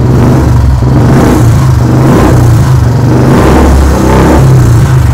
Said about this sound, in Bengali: প্রত্যেকটা পিকআপে না হার্টবিট, প্রত্যেকটা পিকআপ হবে আর হার্টবিট ডিক ডিক ডিক ডিক